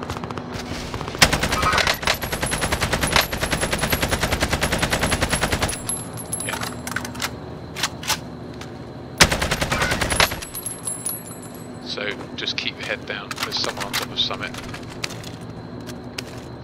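An EM2 rifle fires in Call of Duty as loud, rapid automatic bursts, two long volleys and a scatter of shorter shots. Lighter game noises fill the gaps between the volleys.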